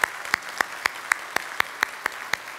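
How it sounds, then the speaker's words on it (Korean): A congregation at a Sunday praise service at Yeondong Church claps in a slow, steady rhythm to welcome newcomers, with sharp, evenly spaced claps ringing through the sanctuary. "박수로 우리 환영하도록 하겠습니다"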